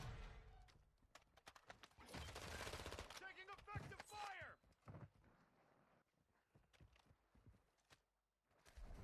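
Video game gunfire in a chaotic firefight: scattered sharp shots and a dense burst of rapid fire, mixed with people talking and other game noise.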